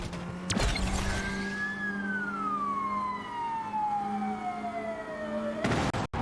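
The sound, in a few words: police car siren in Asphalt 9: Legends video game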